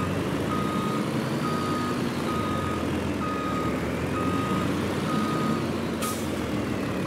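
Reversing beeps repeat steadily at an even rhythm over the low rumble of an idling truck hauling a trailer in Farming Simulator 22, with a brief hiss of air near the end.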